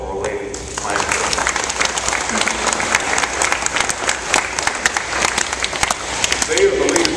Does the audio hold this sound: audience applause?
yes